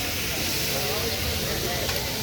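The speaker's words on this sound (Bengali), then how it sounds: "আর এদিকে মাছ ভাজা চলছে" Dense, continuous sizzling of hilsa fish frying in hot oil, loud and close, with faint talk buried beneath the hiss.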